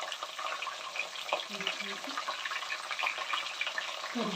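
Curry leaves fry in oil being prepared as a homemade hair oil, giving a soft, steady sizzle with faint crackles and stirring scrapes, low in level and fairly close.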